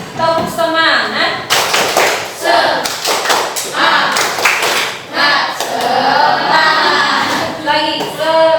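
A teacher leads a class in a rhythmic 'tepuk semangat' chant, bursts of patterned group clapping alternating with sung or chanted voices in quick, regular beats, close and loud.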